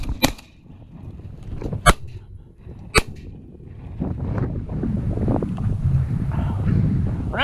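Shotgun blasts during an upland bird hunt at a shooting preserve in Neoga, Illinois: three sharp, loud reports spaced about a second apart, followed by a wind-buffeted outdoor rumble with no talking.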